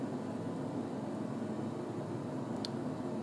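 Pink noise test signal plays through speakers while a digital crossover is being set up, a faint, even, steady hiss that holds unchanged from start to finish.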